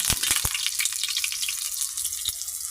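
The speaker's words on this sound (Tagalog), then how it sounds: "Gigisa na natin ito. Ayan, pinagsabay ko na yung sibuyas, tsaka bawang." Onion and garlic sizzle steadily in a hot pan as they are sautéed, a continuous close frying hiss with a few sharp crackles and pops, no voices.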